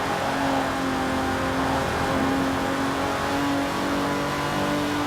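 Engine of an Aston Martin DB5 Vantage, a 1960s British grand tourer, in Forza Horizon 4, holding a steady, continuous revving drone with a sustained tone, close and alone without voices.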